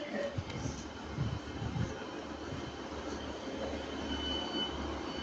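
A three-coach Northern train pulls into Stockport station with a continuous high brake squeal over a low rumble of wheels on rail, moderately close and without talk.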